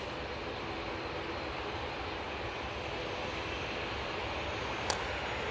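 A Boeing 737 jet takes off from Manchester Airport bound for Alicante, its engines giving a steady, broad, distant roar that holds level throughout, with one brief sharp click near the end.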